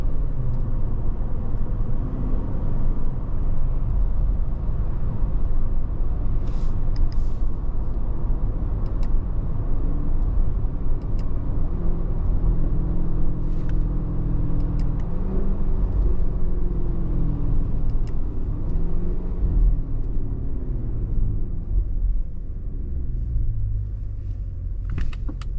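A 2026 Cadillac Escalade V under way gives a steady, deep engine and exhaust rumble with road noise from inside the cabin, and the tone rises and falls gently as it drives.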